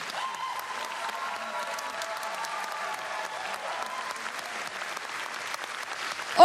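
Applause from a concert audience at the Carpathia Festival in Rzeszów fills the space as a steady, distant wash of many hands clapping, even and sustained throughout.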